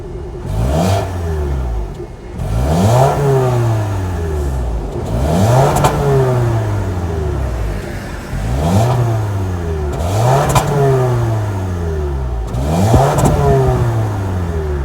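A 2023 Toyota RAV4's 2.5-liter four-cylinder engine revs up and falls back several times in a steady pattern, each rev rising sharply then easing to idle, loud and close.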